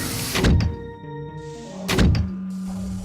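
A heavy door with a painted biohazard symbol slides open: two loud, close thunks about a second and a half apart, each trailing into a sustained hum or hiss.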